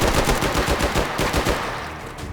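Rapid automatic rifle fire in the VR shooter H3VR, a close and loud burst of repeated shots in a quick rhythm that fades out at the end, with no talk.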